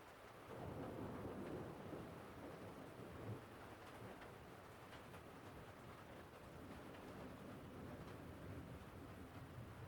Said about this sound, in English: It's the sound of rain on a tin roof.